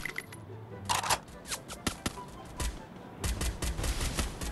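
Video game gunfire from Free Fire crackles in quick bursts and rapid volleys, sharp shots clustering near the start and again toward the end over a busy background.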